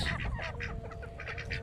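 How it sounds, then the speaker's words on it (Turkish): Geese honk and cackle nearby on a village farm in a rapid, overlapping flurry of short calls against a low rumble of background noise. "Kazlar."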